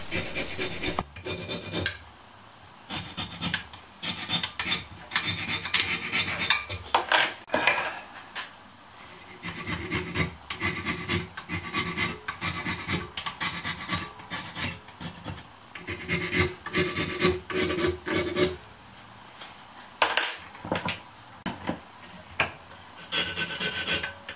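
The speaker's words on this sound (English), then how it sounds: "I'm just using a piece of soft aluminium here to clean the file." A metal file is cleaned by scraping a piece of soft aluminium along its grooves, giving repeated harsh rasping strokes in an uneven rhythm, close and fairly loud with no talking.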